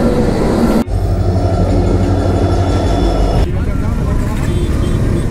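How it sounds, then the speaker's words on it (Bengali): Trains rumble past a railway level crossing at night, a loud continuous low roar with rattling that shifts partway through as a second train follows the first. "একটা ট্রেনের জায়গায় দুটো ট্রেন পার হলো"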